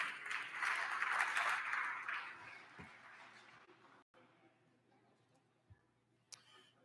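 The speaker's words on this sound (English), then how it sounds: "give them a round of applause" Legislators in a state House chamber give a round of applause, a dense burst of clapping that fades away over a few seconds, leaving near quiet broken by a couple of faint clicks and knocks.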